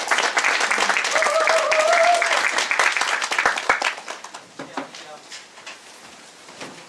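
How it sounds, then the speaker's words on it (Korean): A college church group applauds as a short-term youth missionary comes forward, with dense clapping for a few seconds that thins into scattered claps and fades, while a faint tone and a few voices pass underneath. "서현배 형제 나올 때 박수로 맞이해 주시기 바랍니다"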